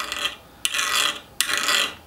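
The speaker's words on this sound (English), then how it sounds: "Try it with the 60 Rockwell test file. Yeah, it's kind of jumping over the ridges in the file" Hardened 60 Rockwell test file dragged across heat-treated SUP9 spring steel, giving two sharp, bright scraping strokes that start abruptly and skip over the surface, close and clear with no talk.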